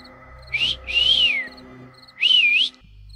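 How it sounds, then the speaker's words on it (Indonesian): A man on a street whistles at a young woman to catch her attention, sending out three sliding catcall whistles, two close together and one after a short pause, clear and close with no talk. "Baru saja beberapa langkah, berandal tadi pun bersiul."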